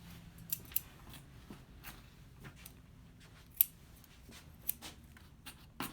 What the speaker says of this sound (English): I'm able to do my scissors here